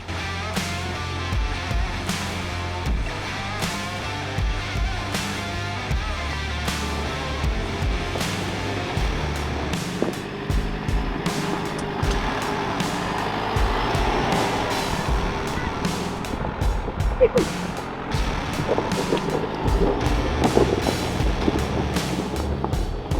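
A Nissan Navara 4WD grinds up a high-country track, a steady low engine rumble with crunching gravel and bumps, wind buffeting the microphone, and occasional faint voices in the background.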